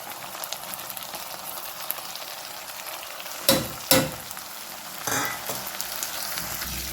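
Tomatoes frying in a pan with chilli powder being stirred in, a close, steady sizzle throughout, broken by a few louder clanks and scrapes of the spoon against the pan.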